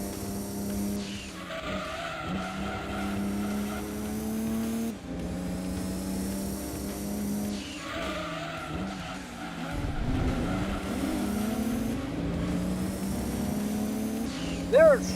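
A race car in Gran Turismo 2 with the Project A-Spec mod: a steady, loud engine drone with shifting pitch, broken by tire squeals and skids, with no other sound on top.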